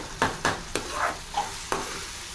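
Onions and tomatoes frying for egg curry are pressed and stirred in a pan, giving about six quick, rhythmic scraping strokes over a soft, steady sizzle, close up with no voices.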